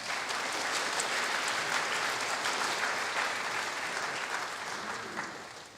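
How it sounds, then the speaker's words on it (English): Dense, steady audience applause at a student film festival awards screening, filling the space evenly from start to finish before tapering slightly at the end, with no voices over it. "Please give them a round of applause."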